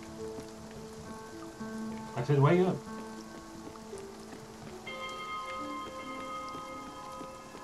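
Steady rainfall in Spiritfarer keeps up a soft continuous patter under game music, with a brief spoken line partway through.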